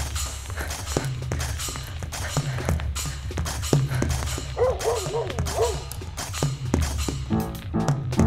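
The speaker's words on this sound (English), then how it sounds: "you hear the dog" A dog barks a few times partway through an experimental music sample collage, the short yelping barks set among soft thumps and other layered sampled sounds.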